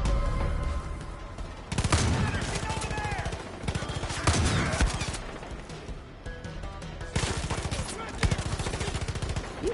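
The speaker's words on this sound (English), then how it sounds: "Why are you shooting me?" Rapid gunfire from the video game Far Cry 5 in Hope County rattles in loud, dense bursts throughout, with repeated shots and impacts and a few brief pauses.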